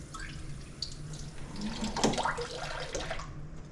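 Tap water runs steadily from a faucet into a small vial, a close, continuous splashing hiss with a slight swell midway and no voices.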